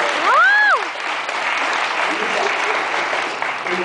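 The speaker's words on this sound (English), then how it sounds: "Oh yeah, give her a big round of applause." An audience applauds steadily with dense, even clapping, loud and close, while a brief whoop or voice rises at the start.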